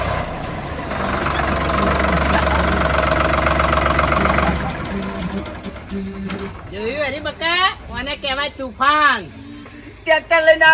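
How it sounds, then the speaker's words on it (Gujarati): A tractor engine drones steadily and loudly for several seconds, then drops away as people begin talking nearby. "ટ્રેક્ટર ચાલતું છે"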